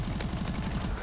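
A video game gun firing in rapid automatic bursts, a steady rhythmic stream of loud, close shots lasting about a second.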